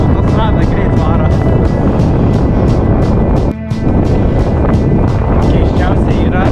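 Cycling beside a motorway, strong wind buffets the microphone in a loud continuous roar with rhythmic gusting pulses, briefly dropping out for a moment midway, while passing traffic rushes by.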